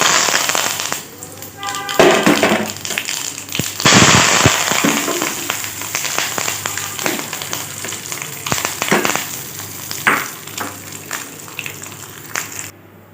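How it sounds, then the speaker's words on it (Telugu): Mustard seeds, cumin, chana dal, urad dal and curry leaves crackle and sizzle loudly in hot oil for a peanut chutney tempering, with sharp popping bursts, close up, and a voice speaking over it. "పచ్చళ్ళు పోపు వేసేసుకోవాలి"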